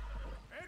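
A horse whinnies in Red Dead Redemption 2, a short, bright neigh rising over low rumble and faint hoofbeats, with a voice talking over it.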